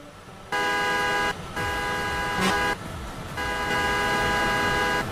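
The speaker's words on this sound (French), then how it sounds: "On attend que les voitures passent." Cars and trucks pass on a road in a run of loud, sustained whooshes and engine drones, with a brief horn toot in the middle.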